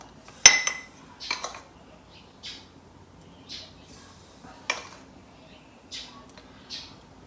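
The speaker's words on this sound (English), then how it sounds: "You can put a level tablespoon of salt in each jar." A spoon clinks against glass jars as level tablespoons of table salt go into jars of village-style Sicilian olives, several sharp taps and light scrapes spaced out over a quiet background.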